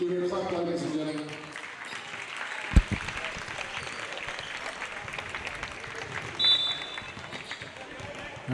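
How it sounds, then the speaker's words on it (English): Spectators at a QSL1 women's basketball game between the Toowoomba Mountaineers and Sunshine Coast Phoenix clap in a sustained, fairly loud spread of applause, with a commentator talking at the start and a sharp thump partway through. "Give it a clap, ladies and gentlemen."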